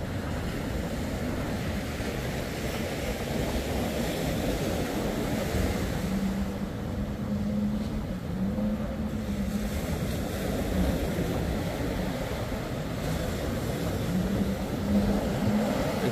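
A 660 Budcat speedboat with twin four-stroke Suzuki outboards drones steadily at a distance for the whole stretch. Wind and water noise sit over the engines, and nobody speaks.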